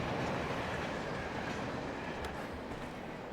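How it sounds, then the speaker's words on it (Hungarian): A train rumbles past in the video game Alan Wake, a steady loud wash of rolling noise with faint clattering wheels, holding at nearly even volume throughout. "Itt a vonat."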